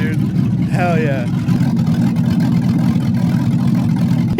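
An LS-swapped Chevy S10 engine runs at a steady, loud idle with a deep rumbling throb, close up, while a person talks briefly over it near the start.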